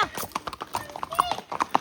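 Horse hooves clip-clop steadily and fairly near on a horse ride at Matheran, and a voice talks over the hoofbeats.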